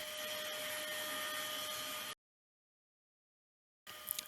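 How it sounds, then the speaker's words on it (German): A loud DIY workshop dust extraction vacuum runs with a steady whining roar and a fixed tonal hum, cutting off abruptly into silence before briefly starting again near the end. "Das Einzige, was mir bisher gar nicht gefällt, ist die Lautstärke des Saugers."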